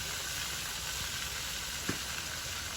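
Small icha shrimp hitting hot oil in a village kitchen pan set up a steady, dense sizzle and hiss that holds evenly throughout, close and fairly loud, with one brief soft knock near the end.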